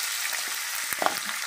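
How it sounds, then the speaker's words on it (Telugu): Sliced onions fry in oil in a pan for an onion chutney: a steady close hiss of sizzling with a few small crackles and pops, and no voices. "ఉల్లిపాయలు బాగా వేగాలి ఫ్రెండ్స్"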